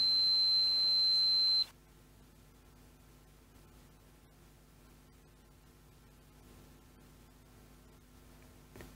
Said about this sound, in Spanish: Con menos de 19 ohmios puedo obtener el bip